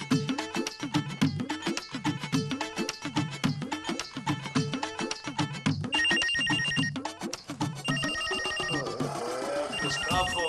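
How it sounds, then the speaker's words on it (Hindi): A telephone rings early in the morning in a home, its repeated electronic ringtone loud and continuous, changing pattern near the end. "किसका फोन आ गया सवेरे सवेरे?"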